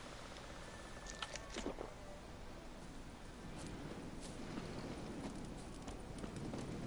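Roach, Geralt's horse in The Witcher 3, hooves clip-clopping in a quiet, steady rhythm as she answers a summons, with a few brighter knocks early on and a soft wash of ambient noise underneath.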